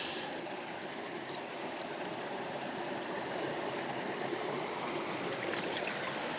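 Water pouring steadily into the reservoir of a camping gravity water filter, a continuous rushing splash that stays even and close.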